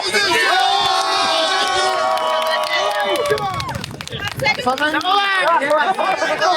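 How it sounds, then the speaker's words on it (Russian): A crowd at a Siberian May Day cycling rally erupts in shouts and cheering, many voices yelling together loudly and close, with chanting bursts toward the end. "Овации!"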